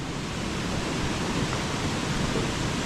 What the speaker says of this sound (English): You could hear the water running.